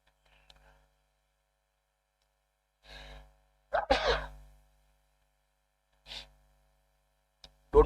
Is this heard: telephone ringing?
no